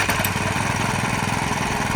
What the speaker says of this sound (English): You start it up,